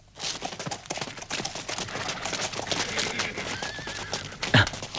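Horses' hooves clip-clopping at a temple courtyard in a 1982 martial arts film, a busy, steady patter of hoofbeats close by with a brief animal call near the end.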